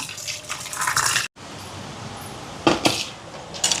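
Mangoes washed in water, with splashing and sloshing, knocks against a bowl and dripping, a short break, then more clattering rinses up close.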